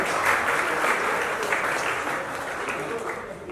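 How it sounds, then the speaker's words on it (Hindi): Applause from a crowd at a store launch event in Mira Road for a new Realme 14T phone. The clapping is dense and steady, and it tapers slightly toward the end. A voice speaks faintly underneath. "तालियों में कंजूसी नहीं होनी।"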